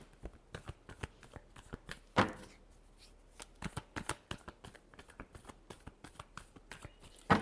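Tarot cards being shuffled by hand, a quick run of close, crisp riffles and taps that continues steadily with a few sharper snaps, no voices.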